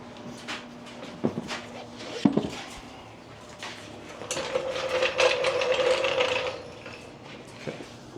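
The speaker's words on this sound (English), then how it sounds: "I tighten them up with the torque wrench." A torque wrench tightens wheel bolts on a Porsche 981 GT4, with a series of close ratcheting clicks and metallic mechanism sounds, a longer burst of rapid clicking in the middle, against a quiet garage background.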